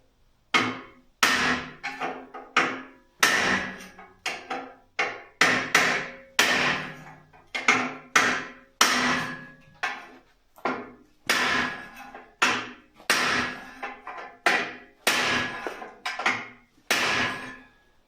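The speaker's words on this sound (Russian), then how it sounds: "Сейчас попробую эту гайку долбать, но не знаю, шансов мало." Hand-forged chisel struck repeatedly with a hammer against a stuck nut during a MAZ truck build, about twenty sharp metallic blows in a steady, uneven rhythm, loud and close with no talk.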